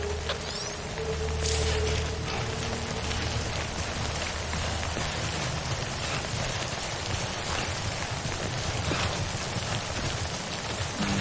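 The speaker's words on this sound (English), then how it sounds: "Don't stay out in the rain any longer than you have to." Steady, dense rain in the video game Death Stranding, a continuous wash of falling drops and surface patter over a low rumble, loud and unbroken throughout with no talk.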